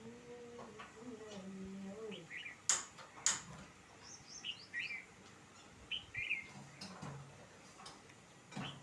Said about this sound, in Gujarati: જે અમારા વાડામાં બુલબુલ બેઠું છે દિલ્હી ઉપર.